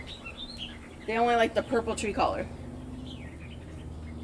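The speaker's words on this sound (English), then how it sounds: "I hear a bird singing." A bird sings in a city vegetable garden, a short burst of clear chirping phrases over about a second, mid-distance, while a person talks nearby.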